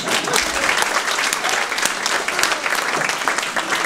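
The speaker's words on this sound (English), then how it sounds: "But a good question, round of applause." Applause from a comedy stand-up show audience, a short, dense burst of clapping that stays loud and steady throughout, with no talk over it.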